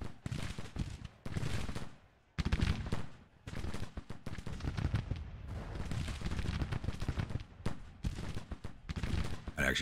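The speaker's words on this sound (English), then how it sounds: "They're just firing at everybody." American Civil War musket volleys in Grand Tactician: The Civil War, rolling bursts of massed gunfire crackling in repeated waves with brief lulls between, fairly loud and without talk.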